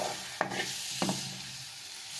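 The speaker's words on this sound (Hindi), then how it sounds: "अब इसमें डालेंगे टमाटर। थोड़ा कम और इसको जल्दी जल्दी हिलाएंगे" Tomatoes are stirred in a hot pan with goat brain, and two sharp scraping strokes stand out over a soft, continuous sizzle.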